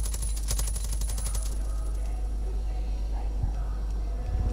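Gunfire in the video game Far Cry 5: a rapid automatic burst of shots early on over a loud, steady low rumble of game sound, followed by scattered fainter impacts.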